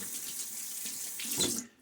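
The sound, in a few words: water running from a tap to wet shaving lather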